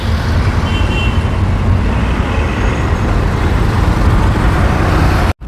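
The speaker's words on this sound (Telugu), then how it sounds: "హైదరాబాద్ కన్నా ఘోరంగా ఉంది ఈ రోడ్లో ట్రాఫిక్ అయితే." Road traffic jam in Chennai: a dense, continuous rumble of engines and tyres from cars, buses and trucks close by, steady and loud throughout, cutting off abruptly at the end.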